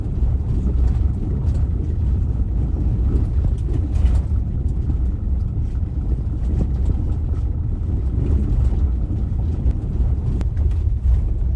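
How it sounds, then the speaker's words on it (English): A Tesla Model 3/Y driving off-road along a bumpy desert path gives a steady, loud low rumble of tyres and road noise with wind buffeting, continuous throughout. "going off-road along a pretty bumpy path in the middle of the desert"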